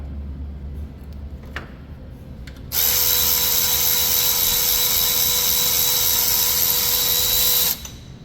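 Power tool spinning out a bolt from a Subaru alternator bracket, a loud high-pitched steady whine lasting about five seconds after a few faint clicks, close by.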